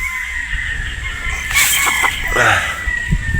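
A gamecock rooster crows nearby at a game farm in Batangas, one drawn-out call rising over a steady background hum.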